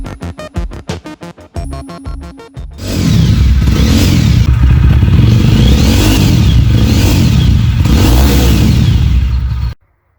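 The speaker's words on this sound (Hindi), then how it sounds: "अब मैं आपको दिखाता हूँ रेड रूस्टर के जो एग्जॉस्ट है वो कैसे साउंड करते हैं।" A Jawa motorcycle fitted with a Red Rooster aftermarket exhaust idles with a lumpy, uneven putter, then revs up into a loud sustained roar. The revs rise and fall several times before the engine cuts off sharply near the end.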